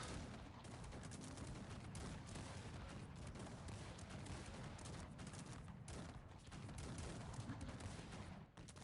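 Dense, continuous bursts of gunfire and cannon explosions in the strategy game Cossacks 3 crackle nonstop at close range, loud and chaotic, with no talking.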